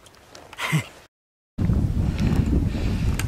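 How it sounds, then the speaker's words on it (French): Wind picking up on a mountain, a steady broad rushing buffet against the microphone after a brief breathy sound and a short gap of silence. "Le vent se lève, il est temps de repartir."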